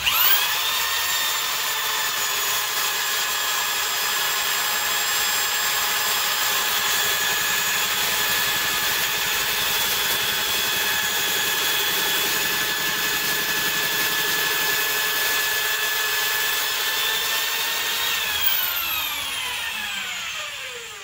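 Vintage Porta-Tool line boring machine cutting through a VW engine case on hydraulic feed, a steady high-pitched whining drone with sustained tonal harmonics that slowly glide downward near the end.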